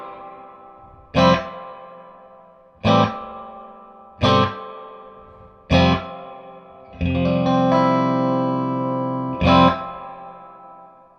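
Distorted electric guitar through a Matchless Chieftain amplifier with reverb, five single strummed chords and one sustained chord, each ringing out into a long atmospheric reverb trail between strikes, clear and alone.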